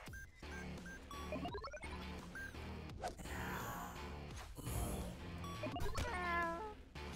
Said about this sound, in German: Die Katze. Oh, die Katze.